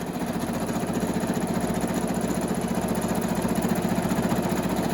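A sewing machine stitches a variable-width zigzag, producing a loud, continuous, rapid rhythmic chatter that holds steady throughout.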